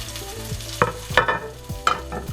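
Garlic, pepper and tomato sauté in oil in a pan, a continuous sizzle broken by several sharp scrapes and knocks of a utensil stirring, close and without speech.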